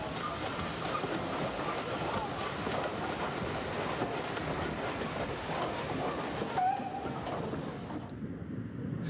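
A Stanier Pacific steam locomotive hauling a tour train rolls past in a steady, loud broadband rumble mixed with wind buffeting on the microphone, holding constant for several seconds before a brief squeal and a sudden drop near the end.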